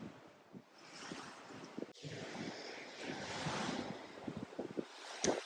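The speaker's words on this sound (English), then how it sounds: "Look over here at these waves over here." Ocean waves roll and wash at The Sands, a soft continuous surf with gusty wind buffeting the microphone, faint and fairly distant with swelling surges.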